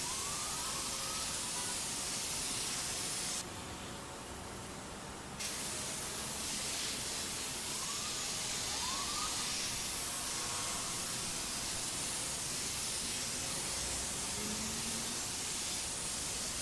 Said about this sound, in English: I think we just got steam.